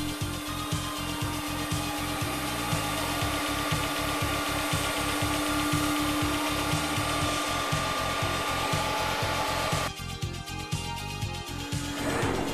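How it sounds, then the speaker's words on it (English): A Hundegger K2i joinery saw automatically cutting and milling a timber newel post, giving a loud continuous machine whine with a rapid pulsing beat that shifts in texture near the end. "Newel posts with long, complex profiles can be easily programmed and automatically cut."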